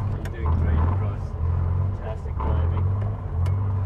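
A Morris Minor car engine while driving, a low droning rumble that swells and eases steadily throughout, heard close from inside the car with speech over it.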